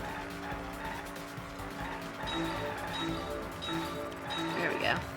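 Cars racing and skidding in the Danganronpa V3 driving minigame: a steady synthetic engine hum with brief tire squeals and skids, faint and mixed under game music and a voice talking.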